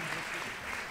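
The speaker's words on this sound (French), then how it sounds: "on peut vous applaudir au terme de cette première table ronde" Audience applause at the close of a first round-table discussion during a French conference on innovative medicines and access to care; steady, dense clapping filling the short moment.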